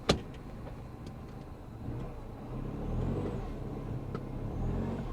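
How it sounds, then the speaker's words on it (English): 1966 Chevy Impala SS 396 V8 idling with a serious vacuum leak, a quiet low, uneven engine rumble heard from nearby, opening with a brief sharp click and swelling slightly in the later seconds. "I hear a pretty serious vacuum leak too"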